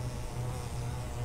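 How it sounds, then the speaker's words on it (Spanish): Bee enemy in a Sonic video game giving off a steady, close electronic buzz that drones on evenly without a break. "Abeja. Abeja muerta."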